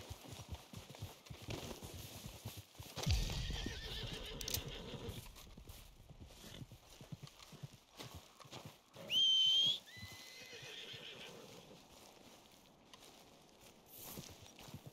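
A white Arabian horse in Red Dead Redemption 2 clops along on hooves at a moderate distance, then lets out a loud, shrill whinny partway through before the hoofbeats continue more quietly, with faint surrounding ambience.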